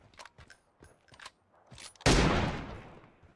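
Gunfire in the mobile battle royale game PUBG Mobile: a few scattered single shots, then a sudden loud burst of rapid automatic fire that rings out and slowly decays.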